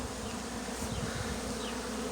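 Honey bees buzz around a hive of parent colonies on a cool, breezy day, a steady close swarm drone with individual wingbeats weaving through, continuous and alone without voices.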